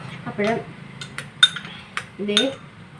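Metal spoon stirs and clinks against a bowl while mixing a homemade face pack, a few short scraping strokes up close, with a voice speaking softly in between.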